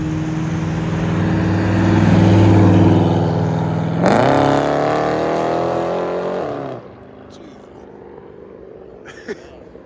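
A $400,000 Ferrari revs hard at a car show, a loud rising engine roar that climbs sharply then cuts off, leaving quieter crowd ambience and a few faint distant noises.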